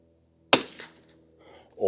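Winchester 52E rifle firing a single shot of Eley Match ammunition outdoors: one sharp, fairly near crack with a brief echo, followed by a short quiet and the start of a voice.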